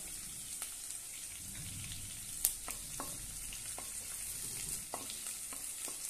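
Curry leaves and finely chopped green chillies crackle in hot oil for rava upma, a soft steady sizzle broken by a few sharp spatters and the scrape of stirring, with no voices.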